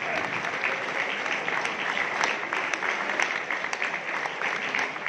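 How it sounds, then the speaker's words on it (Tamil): An audience applauds at an event, dense steady clapping filling the whole stretch at even loudness. "ஒரு பலத்த பாராட்டி"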